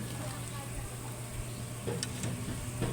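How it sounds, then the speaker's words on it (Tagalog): Veggie balls frying in hot oil at a street food stall, giving a steady, fairly soft sizzle with a low hum underneath and a few brighter crackles near the end. "ang tawag dito ay veggie ball. Mabilis lang siyang maluto."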